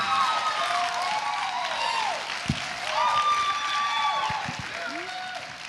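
Applause from a pageant audience at the Utah America Pageants Triple Crown finals carries on at moderate level, with whistle-like tones and a few sharp knocks mixed into the steady clapping.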